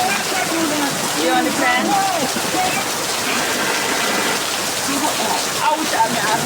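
Steady rain pours down outdoors, a dense continuous hiss close around, while a voice speaks briefly over it.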